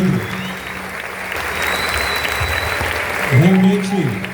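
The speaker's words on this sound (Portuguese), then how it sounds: "Uma salva de palmas bem forte, maravilha." A church congregation breaks into a strong, sustained round of clapping during a service in Campo Grande, MS, dense and steady throughout, with a voice speaking over it near the end.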